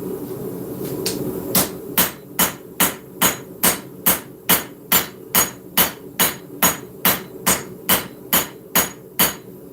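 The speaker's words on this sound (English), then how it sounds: "So let's go ahead and draw out the rest of this. Cross peen, even with the edge." A cross peen hammer draws out a steel knife blade with an integral bolster at the forge, striking about twice a second in a steady run of loud, ringing metallic blows, close up and with no talking.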